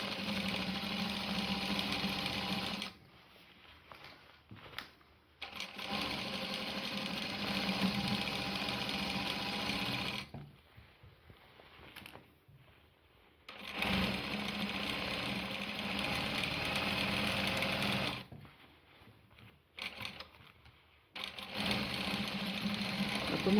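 A sewing machine stitches bias binding onto a skirt with a pence dart, running in long steady bursts of rapid mechanical whirring separated by short pauses.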